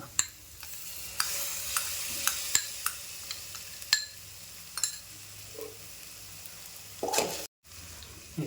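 Ground masala frying and being stirred in a pan for a mutton fry: a steady sizzle runs under repeated sharp spatula scrapes and clicks against the pan, close and fairly loud.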